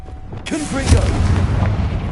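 A Confringo spell explosion in Hogwarts Legacy lands as a loud, close boom right after a brief voice and rolls on as a deep, sustained rumble.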